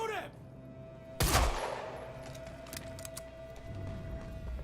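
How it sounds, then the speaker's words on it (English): Gunfire in the video game Quantum Break, a single sharp loud shot followed by a long ringing tail, with scattered fainter shots and game noise around it. "Shoot him!"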